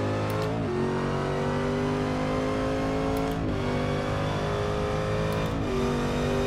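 Racing car engine in Forza Motorsport 6, roaring loud and continuous at high revs, with quick dips in pitch at three gear changes before it climbs again.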